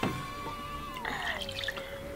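Water pours in a steady trickle from a cup into a mixing bowl, measured out for a clear glue slime, quiet and close, with a few splashing drips and no talk.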